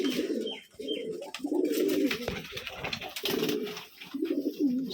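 Pigeons kept in a loft in Rajshahi coo repeatedly nearby, their low throaty calls overlapping in a steady rolling chorus with faint background noise.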